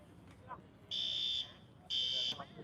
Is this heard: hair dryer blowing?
no